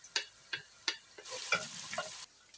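Browned onions frying in a pan as ginger-garlic paste is added, with several distinct scraping stir strokes and then a burst of louder sizzling; close, with no talking.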